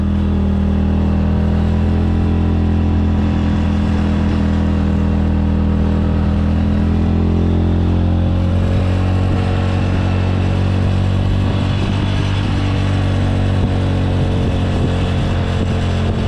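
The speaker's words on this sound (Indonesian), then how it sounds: "Kita main gigi 1 aja. Mesin bergetar." A car engine labours steadily in first gear while climbing a steep asphalt mountain road toward Mount Rinjani via Sembalun, Lombok, giving a continuous loud, close drone with a vibrating hum throughout.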